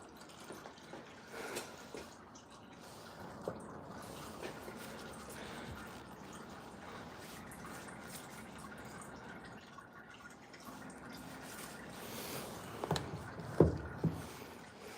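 Fluid draining out of a VW Passat 2.0 TSI during a service, a faint continuous trickle and drip under a low background hum, with a few louder clinks near the end.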